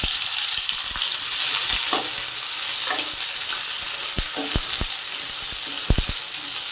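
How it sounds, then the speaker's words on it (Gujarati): Mustard, cumin and fenugreek seeds fry in hot oil in a pan, giving a bright, steady close sizzle with scattered pops and stirring clicks, no voices. "આપણે તવલીમાં તેલ ગરમ કરવા મૂકી દીધું છે ને એમાં નાખશું આપણે રાઈ, જીરું ને મેથીના દાણા"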